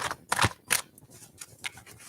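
Playing cards shuffled during a tarot reading, giving a few bursts of riffling and snapping with quieter rustling between them, close and moderately loud.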